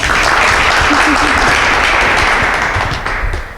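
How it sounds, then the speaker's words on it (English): Loud, continuous applause from an audience at an artist talk, thick and steady throughout before easing slightly at the close. "Yeah, applause."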